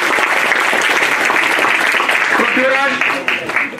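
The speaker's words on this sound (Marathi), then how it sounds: "सर्व विद्यार्थ्यांनी टाळ्या वाजवायच्या आहेत, प्रोत्साहन द्यायचं आहे." Students applauding at an annual prize distribution ceremony: sustained dense clapping from a large crowd, steady and fairly loud, tapering slightly near the end, with a voice speaking over it.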